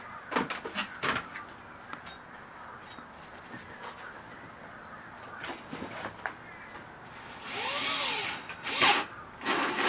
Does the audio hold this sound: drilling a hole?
yes